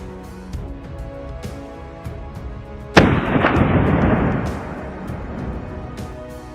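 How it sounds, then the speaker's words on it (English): A single powerful rifle shot rings out in a pine forest during a wild boar hunt, a sudden loud boom at mid-clip followed by a long rolling echo that slowly fades. "He raised his rifle and steadied his aim. Seconds passed in suspense. Boom! A powerful shot shattered the stillness."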